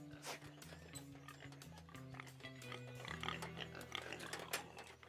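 Pigs grunting and oinking on a farm, a steady run of low snorting grunts at close range, fairly faint, with rustling and a few clatters mixed in.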